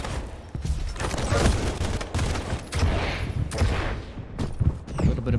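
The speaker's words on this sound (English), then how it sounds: "A little bit of machine gun damage," Rapid machine gun fire rattles through a Quake deathmatch, fairly loud bursts and repeated impacts over a dense backdrop of game action, with no voices.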